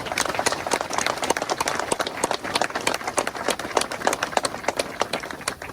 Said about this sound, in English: So we have a round of applause.